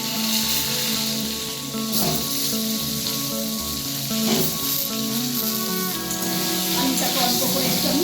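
Potatoes with a little salt and turmeric frying in hot mustard oil, a continuous close sizzle with occasional stirring scrapes and brief louder bursts of spitting oil.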